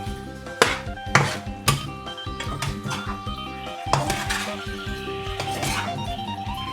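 Fried tilapia is tossed and stirred in a pan of celery stir-fry, with a few sharp metallic clanks of a utensil against the pan followed by softer scraping and clinking, fairly close, no talking.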